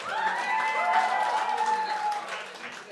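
An audience applauds for a rapper at a Marathi rap show, steady clapping and crowd noise filling the stretch with a few cheers, while a faint voice rides underneath.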